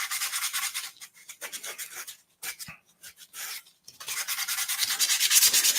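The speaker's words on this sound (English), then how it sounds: "we'll come in and sand it off here in a second" Filler putty being sanded on a hobby model diorama, quick back-and-forth rubbing strokes in irregular bursts with short pauses, close and clear without speech.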